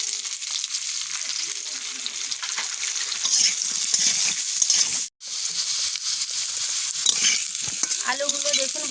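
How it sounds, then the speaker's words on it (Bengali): Potato pieces dusted with turmeric fry in hot oil left from cooking fish, a steady bright sizzle with stirring scrapes, close and continuous, briefly cutting out near the middle. "আমি আলুগুলো"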